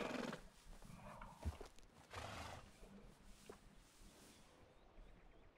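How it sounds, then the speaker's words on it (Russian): Horses in Red Dead Redemption 2 whinny and snort near a hitching spot, with a loud neigh at the start and further whinnies and hoof movement over a steady outdoor game ambience. "Чё тут за лошадки?"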